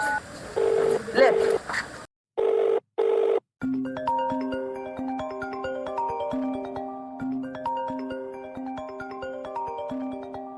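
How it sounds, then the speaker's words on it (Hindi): A mobile phone rings in a house in a Maithili comedy sketch, a loud repeating electronic ringtone melody after a few short dialing tones and brief talk. "मोबाइल तो घर में बजे छे"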